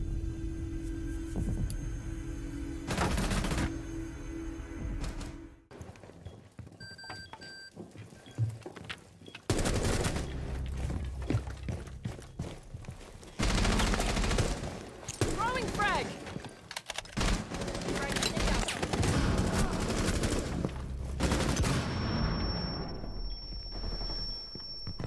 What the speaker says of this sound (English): Our teammate's just shooting nothing.